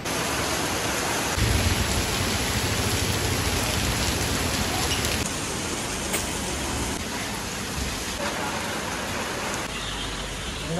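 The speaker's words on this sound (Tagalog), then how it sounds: "Medyo hina-hinaan yung tulo ng ulan." Steady rain falls in a park, a dense, even hiss of drops on surfaces with dripping, loud and continuous throughout, slightly heavier in the first half and easing after.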